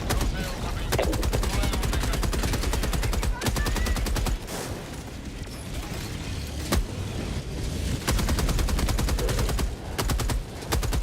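Gunfire in the video game Helldivers 2 aimed at a tank, rapid steady bursts of automatic shots close and loud, with heavier booms mixed in and a voice talking now and then.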